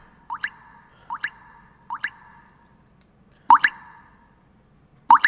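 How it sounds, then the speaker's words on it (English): Sparse water drips fall one at a time into quiet darkness, five distinct plopping droplets spaced about a second apart, the last two louder and closer, with no voices. "And just a single drip."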